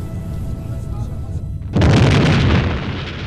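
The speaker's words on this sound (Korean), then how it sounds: "서기 79년 8월 24일 오후 1시경 굉음과 함께 베수비오 화산이 폭발한 것이다." Mount Vesuvius erupts in a dramatized depiction, a sudden loud, deep roaring blast bursting out after a quieter rumbling backdrop and sustaining heavily to the end.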